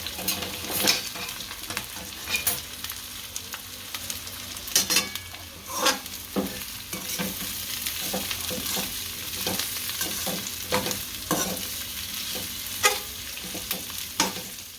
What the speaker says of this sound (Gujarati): કોબી, આ કેપ્સિકમ નાખી દઈશું, બધું ભેળવી દઈશું આપણે.